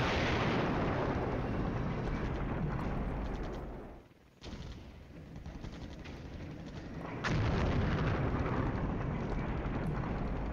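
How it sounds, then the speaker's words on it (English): Artillery strikes pounding an area in the wargame Flashpoint Campaigns Southern Storm, a dense continuous roar of explosions that dips briefly and then swells loud again, with no talk. "That artillery continues to strike there."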